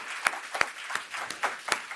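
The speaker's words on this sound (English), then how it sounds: "How about one more round of applause for all of our startups who pitched today?" Sparse audience applause for startups at a pitch competition, a few distinct hand claps in an irregular rhythm, faint and brief.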